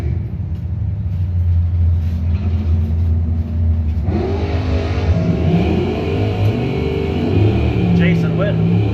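A 1996 Camaro and a 2000 Camaro line up for a street drag race, idling engines rumbling before a loud surge of revving and acceleration as they launch. A voice talks over the engines throughout.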